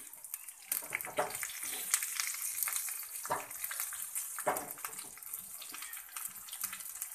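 Dried red chili and curry leaves sizzle in hot oil as a tadka for coconut chutney, giving a steady, watery hiss with a few louder crackling bursts.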